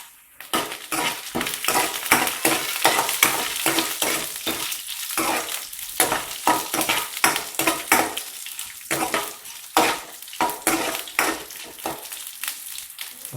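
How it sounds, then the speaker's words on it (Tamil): Tamarind is sautéed in oil in a pan for beetroot chutney, with a soft sizzle under rapid, steady scraping and clinking of a spatula against the metal. The stirring continues throughout without any talking. "அதுக்கப்புறம் புளியை எண்ணெயிலேயே போட்டு வதக்கிடுங்க"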